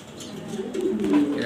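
A light-coloured grizzle pigeon coos softly in a loft, its low murmuring notes swelling near the end against quiet background noise.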